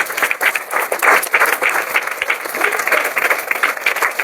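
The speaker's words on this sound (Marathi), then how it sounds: "आता टाळ्या वाजवा जरा जोरात." A church congregation at a Sunday worship service at the Church of Nazareth in Vasmat claps loudly and steadily for several seconds, a dense, sustained burst of many hands close by.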